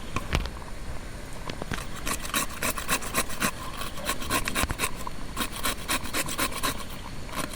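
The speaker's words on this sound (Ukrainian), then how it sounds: "Морковку я буду терти, не різати." A carrot grated by hand on a camping trip outdoors, close rhythmic rasping strokes repeating in quick bursts throughout, with no talking.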